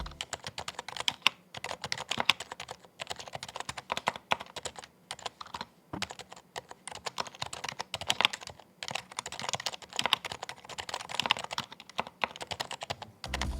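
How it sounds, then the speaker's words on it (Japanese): Close, brisk typing on an HHKB Professional HYBRID Type-S keyboard with blank keycaps, resting on a wool felt desk pad; the keystrokes are soft, muffled and continuous, with short pauses between bursts. "デスクマットありの打鍵音はこんな感じです。"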